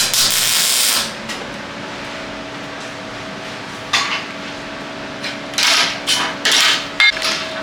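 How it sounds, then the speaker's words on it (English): Welding steel brackets for table legs in a fabrication shop, a loud close hiss and crackle in bursts with pauses and faint shop hum between them, no talk. "Now he's welding those brackets."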